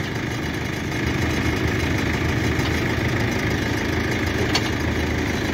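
Mahindra 575 XP Plus tractor engine idling outdoors, a steady low diesel rumble that holds constant throughout, getting slightly louder after the first second.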